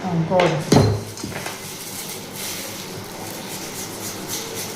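A utensil clatters against a bowl while ingredients for bun dough, including cumin, are mixed, with a loud scrape and clink at first, then quieter, steady stirring.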